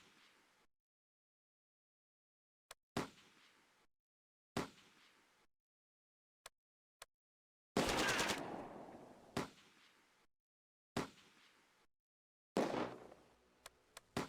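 Ammunition cooks off inside a burning Jagdpanther tank in the Close Combat war game: sharp bursts and crackling detonations come in irregular clusters separated by silences, ending in longer, louder explosive rumbles.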